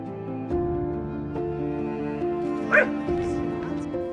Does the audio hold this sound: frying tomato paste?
no